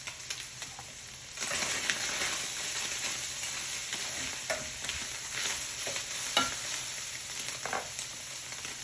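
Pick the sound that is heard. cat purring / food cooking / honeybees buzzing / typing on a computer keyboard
food cooking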